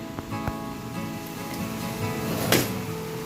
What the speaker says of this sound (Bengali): গুগল এখানে বৃষ্টি দেখতে খুব ভালোবাসে